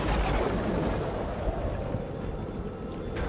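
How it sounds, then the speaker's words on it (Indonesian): Thunder clap sound effect, a loud rumbling burst at the start that rolls on as a broad, dense roar fading slightly over a few seconds, with no talk. "suara petir menggelegar seperti menyambar bayangan itu"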